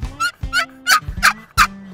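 Hen turkey yelp imitated on a mouth call, a series of about five sharp, loud, close yelps in an uneven rhythm, each dropping to a lower tone, with no talk.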